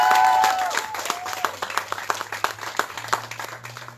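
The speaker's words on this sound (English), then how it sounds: "let's get another round of applause for all of the Washington students" Outdoor crowd claps and cheers for students at a rally, loud and uneven, with a brief whistle or voice tone at the start and a low steady hum running underneath.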